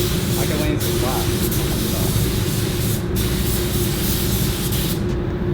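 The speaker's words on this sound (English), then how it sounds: "So thanks to Robert and River who spray for us because this is no joke." A spray gun hisses steadily and loudly in a custom car paint shop in Arizona, a continuous broad airy spray with a constant low hum underneath and a few slight breaks.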